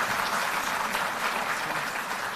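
A crowd at an Indian government event claps steadily as employee names are announced, a continuous, even wash of applause that stays loud throughout with no voices over it.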